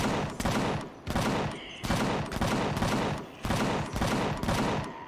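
Rapid gunfire in the sci-fi survival game Empyrion Galactic Survival, loud and close, comes in four or five sustained automatic bursts separated by brief pauses.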